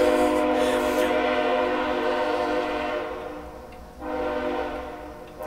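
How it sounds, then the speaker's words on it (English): A train passes close by, its horn sounding in long sustained blasts that dip briefly near the end and then resume, over a steady rumble of the rolling cars. "here comes the train"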